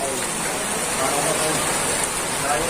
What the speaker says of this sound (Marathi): भर उन्हाळ्यात गारांचा पाऊस